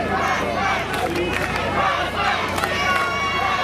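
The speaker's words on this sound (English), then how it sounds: "Crowd chanting for the Prospectz." A wrestling crowd outside the Kips Bay Boys and Girls Club in the Bronx chants for the Prospectz, a dense, loud, steady roar of massed voices that swells in rhythmic shouts throughout.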